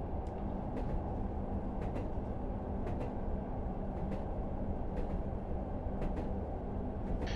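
Class 101 diesel multiple unit running in Train Sim World on the Bishop Auckland to Wearhead line, a steady low engine and rolling rumble continuing throughout with faint periodic clicks, no talk.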